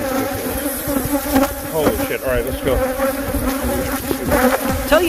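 A killer bee buzzes close by outdoors near an RV, a steady droning hum running throughout while someone speaks briefly over it.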